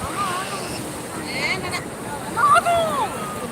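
Sea waves wash ashore at Rushikonda beach, a steady, fairly loud surf with wind buffeting the microphone and a faint swell of water near the end.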